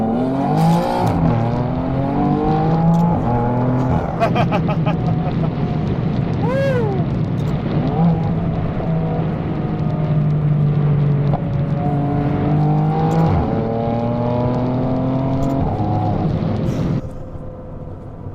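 A heavily modified 2017 BMW M3 Competition accelerating hard, its engine note rising through quick paddle-shifted gear changes, loud and close throughout, with rapid upshift pops and a sustained, aggressive exhaust drone that drops away abruptly at the end.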